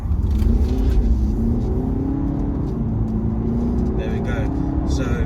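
2014 Range Rover Evoque 2.2L SD4 diesel, in sport mode, accelerating hard with a loud, rising engine drone that rumbles steadily under someone talking.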